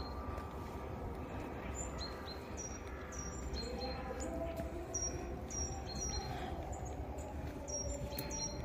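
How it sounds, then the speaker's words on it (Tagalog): Birds chirp among trees during a daily walk, with short high calls repeating steadily over a constant wash of outdoor background noise. "Oh, that's nice sound. The bird."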